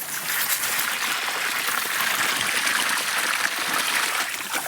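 Steady irrigation water running through a field, a continuous trickling and splashing flow close by, with no voices.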